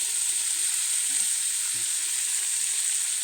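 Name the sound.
onions frying in hot oil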